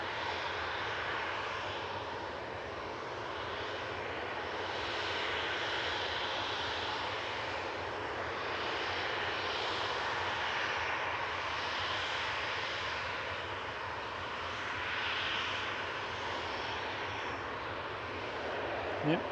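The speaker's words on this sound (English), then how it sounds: "landed in parallel is Aer Lingus Regional, coming in from Dublin, ATR 72 with flight 3324" An Aer Lingus Regional ATR 72 turboprop lands at Manchester Airport, its engine drone rising and falling in gentle swells, fairly distant and steady, with no talk.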